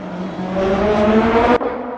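Race car engines at Sebring in a sim racing game, revving steadily and climbing in pitch as they accelerate, loud and close, then cutting off sharply near the end with a lower engine drone continuing.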